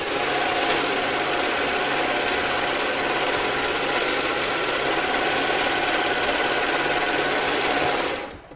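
An overlock sewing machine stitching a seam runs in one loud, steady, close whir with a fast mechanical rhythm, stopping abruptly near the end.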